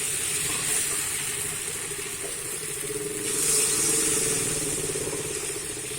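Water poured into a pan of fried spices while cooking a shrimp, fig and potato curry: a loud, steady hiss and sizzle close by that swells midway, with no talk.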